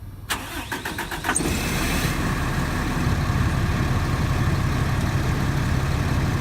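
A 2005 Coachmen Cross Country motorhome with a 5.9 liter, 300 horsepower engine cranks in a quick rapid stutter, then catches and settles into a loud, steady idle rumble up close.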